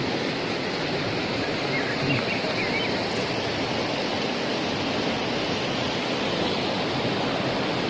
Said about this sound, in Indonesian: Dan ini adalah aliran sungai dari air terjun Loceret ini, dari air terjun Roro Kuning ini.